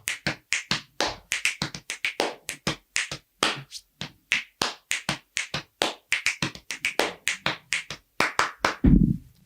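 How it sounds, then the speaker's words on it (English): Body percussion: chest slaps, finger snaps and hand claps played in a fast, steady rhythmic pattern, close and crisp, with no voice over them. "So just using my chest and my snaps and my hands and claps, there's a rhythm that we would do"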